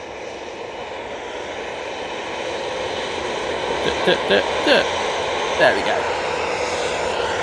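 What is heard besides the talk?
TUI Boeing 737-800 airliner arriving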